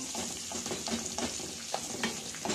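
Onions sautéing in a pan for raw banana poriyal, a close, steady sizzle with soft stirring scrapes throughout.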